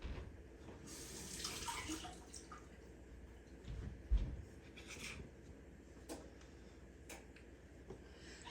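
Tap water runs softly and steadily while tomatoes are rinsed for a creamy pea salad, with scattered splashes, drips and a dull knock against the sink.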